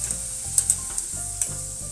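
Cauliflower pakoda frying in medium oil gives a constant close sizzle with a few brief stirring clinks and scrapes, and no voices.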